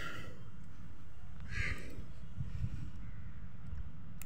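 Crows outdoors during a light drizzle; a single clear caw rings out partway through over a steady wash of rain and low background noise.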